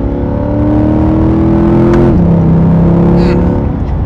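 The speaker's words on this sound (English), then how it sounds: "one of the best sounding motors. Oh my gosh, it sounds so flippin' good." A 2022 Chevy Corvette Stingray's V8 revs loud and close, a sustained roaring tone that climbs and then drops as the revs change.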